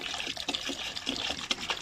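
Car wash liquid is poured into a bucket holding three liters of water, a short close splashing and gurgling stream lasting under two seconds.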